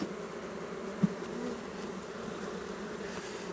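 Honeybees buzzing at a hive in mid-April: a soft, continuous hum with no speech, even and distant-sounding throughout.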